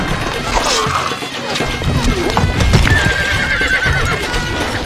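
A horse whinnies and hooves gallop amid clashing battle noise in the Stronghold Crusader strategy game, loud and busy throughout with a rising neigh near the middle.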